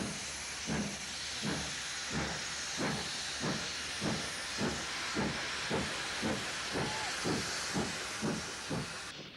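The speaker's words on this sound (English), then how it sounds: "the rear portion of the train set off behind a standard Class 3 tank engine" A Standard Class 3 steam tank engine sets off with the rear portion of a train on the Cambrian Coast route, giving a regular series of strong exhaust chuffs over continuous hissing steam, close and prominent.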